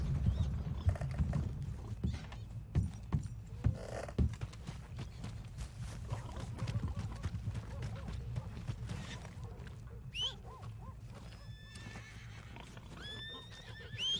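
Hooves clop in a steady walking rhythm over a low rumble, with a horse snorting and whinnying near the end, in the video game Red Dead Redemption 2.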